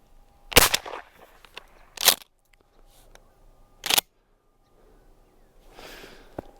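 Three sharp, loud blasts from a shotgun firing Winchester XX turkey loads at a 35-yard target, spaced over several seconds, with faint rustling between shots and a softer hiss near the end.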